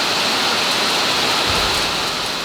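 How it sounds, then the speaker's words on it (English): Heavy rain pours down in a steady, dense roar during a desert storm, a constant broadband wash of water with no pauses and no voices. "The rain opened to an absolute downpour again."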